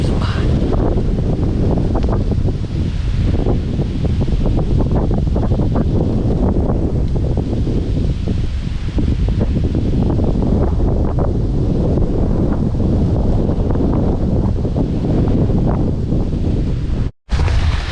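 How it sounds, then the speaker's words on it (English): Strong wind buffets a microphone up in a hunting tree stand during a bowhunt, a loud, continuous roar and rumble that swells and dips throughout and cuts out briefly near the end. "It was so windy up there you probably couldn't hear me"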